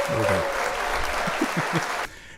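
Applause sound added during a music reaction commentary, a broad steady wash of clapping with a few low voice-like bursts beneath, cutting off abruptly near the end.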